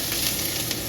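Eggs sizzle steadily in a hot frying pan while being stirred, a continuous bright crackle close up with no voices.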